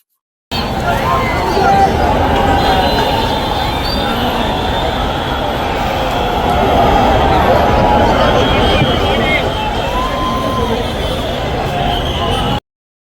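A large crowd gathers outside a Ganesh idol workshop during the festival, a loud steady babble of many voices filling the whole stretch, close and unbroken.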